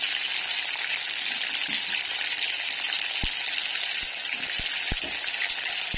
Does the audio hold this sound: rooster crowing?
no